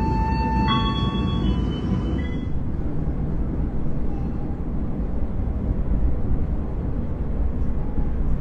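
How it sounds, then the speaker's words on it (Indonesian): Argo Semeru train arriving at Tugu Yogyakarta station, Indonesia: a brief high tonal chime or brake squeal at the start, then a steady, loud low rumble of the train rolling in continues throughout. "Kereta api Argo Semeru baru saja tiba di stasiun Tugu Yogyakarta"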